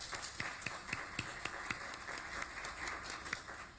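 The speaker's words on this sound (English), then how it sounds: "please join me in a round of applause" An audience at a school board meeting gives a round of applause, with a steady patter of claps and sharper individual claps, fairly faint and held evenly throughout.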